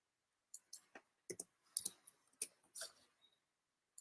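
Computer mouse clicking while drawing shapes in Adobe Illustrator, a close, quiet series of about a dozen crisp clicks in irregular clusters, with no speech.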